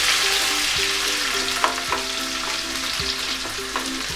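Onions fry for chicken momos in a hot pan, after the garlic has turned golden brown. A steady loud sizzle runs throughout, with a spoon scraping and tapping the pan every second or so as it stirs.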